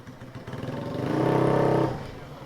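A motorcycle passes close by, its engine rumble swelling to a loud peak and then fading away, heard outdoors in a busy street.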